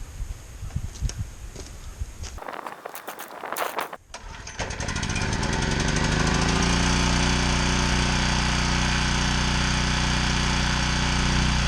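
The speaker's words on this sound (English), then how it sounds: "and I'm going to start the generator." A generator on a building job pulled to start with a few rough sputtering attempts and rattles, then catching and settling into a loud, continuous close engine drone.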